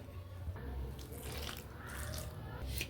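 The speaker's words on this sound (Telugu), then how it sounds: "కొద్ది కొద్దిగా నీళ్ళను వేసుకుంటా వేడి నీళ్ళు పోస్తున్నాం కదండి" Hot water trickles steadily into rice-flake flour for crispy murukku, a faint, continuous pouring sound close by.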